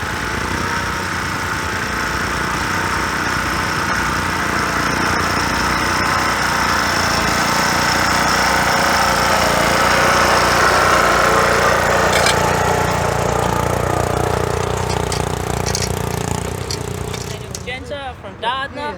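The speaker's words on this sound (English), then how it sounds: "This tractor was built by a gentleman over 30 years ago. It's got a 253 Holden V8 in it." A homemade tractor with a 253 Holden V8 engine runs at a vintage field day in Western Australia, a steady loud engine drone that fades out at the end, with people talking over it.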